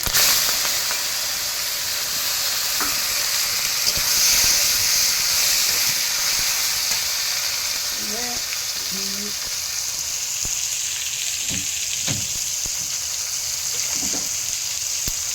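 Tomatoes hitting hot oil with cumin, cardamom, bay leaf and green chilli, giving a constant close sizzle and hiss with a few light clinks of a utensil against the pan.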